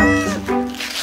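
A cartoon cat lets out a drawn-out, wavering meow, loud and close, with a bright harmonic tone that bends in pitch and fades into a breathy tail.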